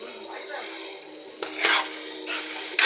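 Tomato curry being stirred in a pot, with soft scraping followed by a sharper metallic clank as the lid goes on, and a little more clatter at the end.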